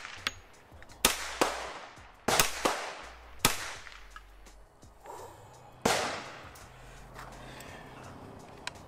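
Hi-Point 1095 carbine fired at a target outdoors, about eight sharp, fairly distant shots at an irregular pace with short echoing decays.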